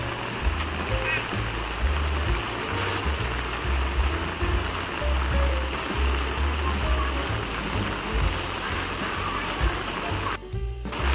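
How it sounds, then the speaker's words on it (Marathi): Steady, dense rush of heavy rain with water flowing and splashing, a continuous loud wash lasting throughout with no pauses. "तुम्ही पाहू शकता किती पाऊस येत आहे"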